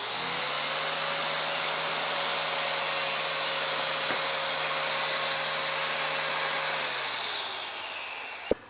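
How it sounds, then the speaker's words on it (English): A steady high-pitched motor whine from a drill spinning a tungsten electrode against a grinder runs continuously for several seconds, then winds down and stops with a small click at the end. "Put your tungsten in the drill, take your grinder or something like that"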